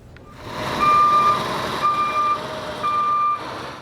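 A truck's reversing alarm beeps three times at an even pace over a low idling engine rumble, moderately loud and nearby.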